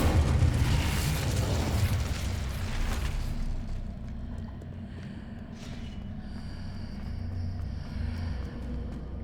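Incendio fire spell in Hogwarts Legacy, cast in a loud burst with a whooshing, roaring blast for about three seconds, then settling into a lower rumble and ambient game sound.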